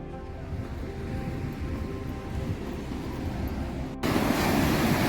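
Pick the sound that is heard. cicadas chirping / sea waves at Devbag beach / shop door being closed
sea waves at Devbag beach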